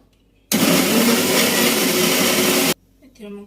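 An electric blender purees tomatoes for a dhaba-style paneer curry. It roars loud and steady for about two seconds, then cuts off abruptly, followed by faint background noise.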